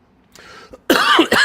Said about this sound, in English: I can't stop coughing right now